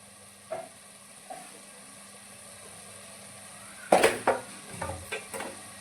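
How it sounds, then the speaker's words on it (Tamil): Chicken and tomato sauté in a pan with a low background sizzle, then loud clattering of a utensil stirring and scraping against the pan in a quick burst of knocks. "இப்போது நம்ம தக்காளியை சேர்க்குவோம்"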